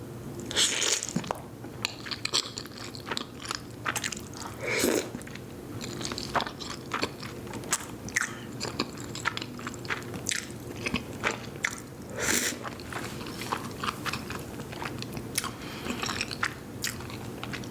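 Someone eats spaghetti with meatballs and fettuccine topped with Tabasco in a close-miked mukbang, with continuous wet chewing, biting and squishing sounds and no talking.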